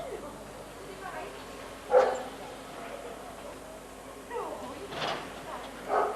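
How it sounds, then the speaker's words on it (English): A dog barks a few times at a distance, short separate yaps on an established residential street, while people talk nearby over a low outdoor hum. "Sounds like a dog already."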